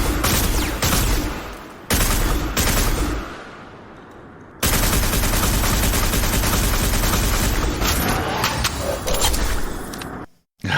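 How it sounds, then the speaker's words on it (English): Every Waking Moment weapon in a video game fires in loud, dense bursts of rapid shots, broken by short gaps and reload clatter, then cuts off sharply near the end. "I've amplified the reloads a little bit to bring them up to the same sound level as the actual firing"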